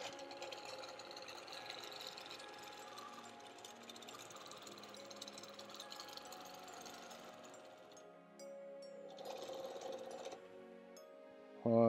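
A sewing machine quilts a Christmas quilt, running as a steady rapid chatter that pauses, restarts and ends in a short louder burst, with no talk.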